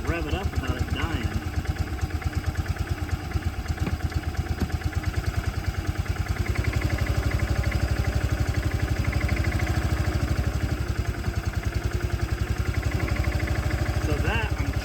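Small engine of a Bobcat Pioneer (Club Car Carryall) utility vehicle running on choke, a loud, close, rapid steady putter that stays even throughout, with talk over it.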